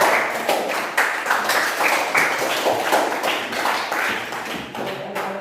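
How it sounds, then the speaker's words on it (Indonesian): A classroom of students claps together in a steady, fairly loud round of applause, with sharp individual hand claps standing out through the sustained patter. "kita tepuk tangan dulu untuk semua mereka"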